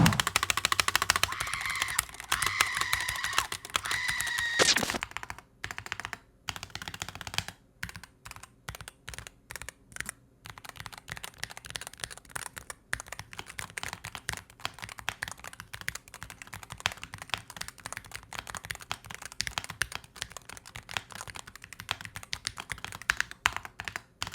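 Fast, continuous typing on a SteelSeries Apex Pro TKL Gen 3 keyboard, close and crisp, with dense key clicks and short pauses between bursts and no talk over it.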